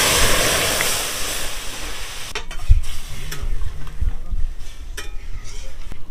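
Lentils hit fried mango in a hot pan, a loud sizzling hiss that quickly gives way to softer frying with repeated scraping, clanking stirs close by.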